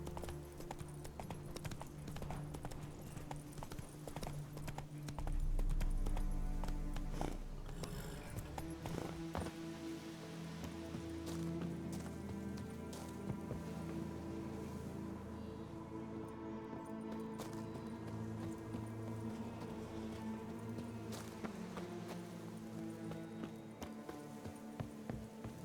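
Horse hooves clip-clopping in a steady rhythmic gait, mixed with musical tones and a low rumble, moderately close with no clear talking.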